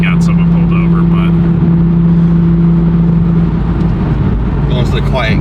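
Toyota A90 Supra fitted with a one-piece driveshaft cruises in sixth gear at the speed limit, a steady low in-cabin engine drone with constant road rumble that holds for most of the clip, then eases as faint voices come in near the end.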